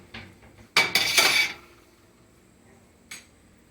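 Thick-cut cooked Neuskes bacon set onto a plate in a kitchen, heard as a close clatter of utensil and dishware lasting under a second, followed after a pause by one brief light clink.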